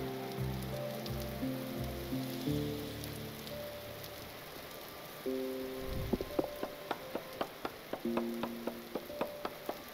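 Rain falling in the video game Vintage Story, a steady hiss with scattered droplet ticks, heard beneath layered tonal game music and a sharp rhythmic run of ticking clicks toward the end.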